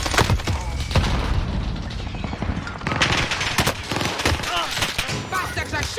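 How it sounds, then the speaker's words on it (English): Dense, loud gunfire from multiple directions in Call of Duty Warzone on Rebirth Island, with rapid automatic bursts and sharp shots overlapping continuously throughout. "Bastards are shooting at me."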